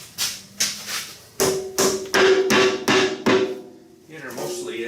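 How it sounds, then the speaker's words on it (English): A rubber mallet taps about eight times in a steady rhythm on a 110 TLB backhoe hydraulic cylinder during a rebuild, each hit a dull, close thud. "Just a little rubber hammer and Dewey."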